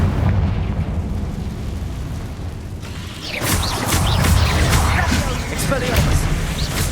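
The Confringo explosive spell goes off in the video game Hogwarts Legacy, a loud fiery blast with crackling bursts and rumble amid ongoing combat noise, with a voice shouting in the game.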